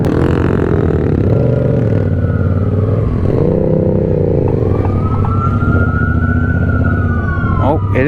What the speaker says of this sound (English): I hear sirens. They after us.